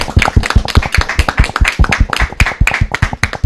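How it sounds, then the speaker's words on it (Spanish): A small school group claps in quick, sharp, uneven bursts close by, the individual hand claps clearly distinct and loud over a few seconds. "Un aplauso."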